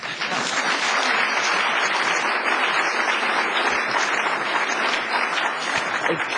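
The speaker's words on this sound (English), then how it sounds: "We have, you can applaud." Luncheon audience at the National Press Club applauds during a session with a former governor, with dense, even clapping that fills the hall at a constant level throughout.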